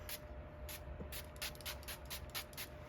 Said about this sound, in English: I'm going to take the LA Colors setting spray.